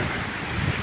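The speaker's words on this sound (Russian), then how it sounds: "Волны сумасшедшие." Strong gusting wind and crashing waves on a lake, heard as a loud, rough rush with buffeting wind noise on the microphone, no speech.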